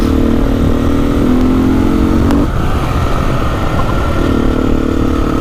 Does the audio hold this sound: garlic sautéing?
no